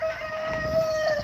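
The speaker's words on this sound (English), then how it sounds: "Couple birds." Chickens in a backyard yard, a flock including Frizzled Silkies, Marans and Jersey Giants, crow with a sustained, steady rooster call held over soft background clucking, close and fairly loud.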